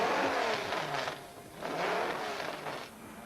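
Offshore racing powerboat engines at the Cowes race roaring loudly and steadily, swelling and easing in two broad surges as the boats run close by.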